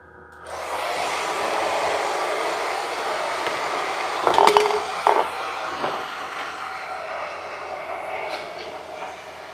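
A hair dryer blows with a steady whooshing hum throughout, drying paint on an RC10 Worlds radio-controlled car body set on the ground, interrupted briefly by a few clattering knocks partway through.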